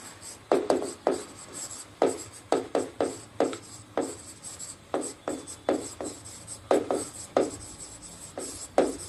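Chalk or marker scratching across a board during a lecture, with quick rhythmic strokes in irregular bursts, close and fairly clear, and no talking over them.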